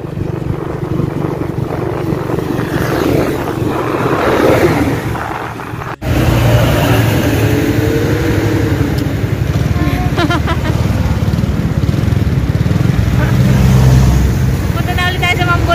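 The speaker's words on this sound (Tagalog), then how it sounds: "Kaso traffic, daming sasakyan." Heavy road traffic with many vehicles on a congested road near Mambulo, heard as a steady, close engine rumble and passing vehicle noise while people talk over it.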